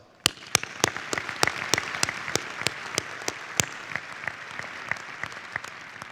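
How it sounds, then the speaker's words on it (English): Audience applause fills a large arena at a university commencement ceremony, a dense wash of clapping with several loud, distinct claps standing out close by, continuing steadily throughout. "I think that's worthy of applause."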